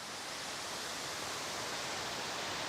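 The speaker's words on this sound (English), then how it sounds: "right there is the waterfall" Richey Ridge Falls in Tennessee pours as a steady, dense roar of falling water, constant and unbroken, moderately distant with no voices over it.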